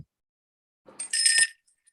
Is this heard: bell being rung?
yes